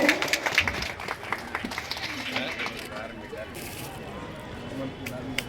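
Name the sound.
audience applause welcoming a guest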